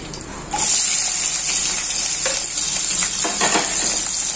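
Dried red chilies fry in hot oil for Chettinad chicken, giving a loud, close, continuous sizzle that swells after a brief quieter start, with faint stirring movements and no speech.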